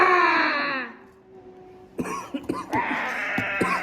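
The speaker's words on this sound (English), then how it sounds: "I'm coughing." A person coughs several times in harsh, closely spaced bursts, preceded by a drawn-out moaning vocal sound and a brief lull. The coughs are close and fairly loud.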